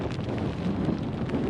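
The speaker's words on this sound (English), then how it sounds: "30 mile an hour wind with gusts exceeding 40 miles an hour so far" Strong wind on Dartmoor gusting over 40 mph, buffeting the microphone with a constant low roar and rumble, close and loud, with no voices.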